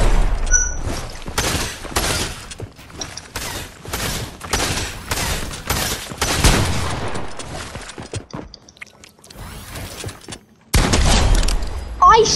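Fortnite gunshots in a 1v1 box fight, sharp loud bursts in irregular clusters with brief gaps and a near-silent pause before the firing resumes, with voices mixed in.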